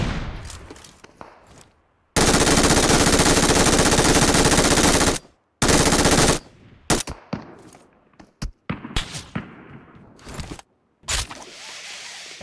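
Sustained bursts of automatic gunfire from PUBG Mobile, loud and dense, with a long roaring volley, a second shorter burst, then scattered single shots and sporadic fire trailing off.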